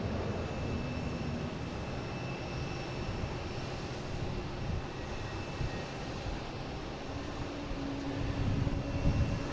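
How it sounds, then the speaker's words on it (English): A United airliner departs Boston Logan for LAX as flight 639, with a faint, distant, continuous jet roar that swells a little toward the end. "Here's United heading to LAX,"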